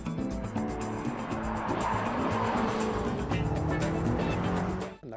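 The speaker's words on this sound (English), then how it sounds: "the roar of the BMW X6 M's 8-cylinder high-performance engine" Loud, sustained engine roar from a BMW X6 M sports activity vehicle with a high-performance 8-cylinder engine, steady and close for about five seconds before cutting off abruptly at the end.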